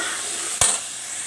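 A Punjabi tadka tempering hits a hot pan with a single sudden burst of sizzle, then settles into a steady background hiss.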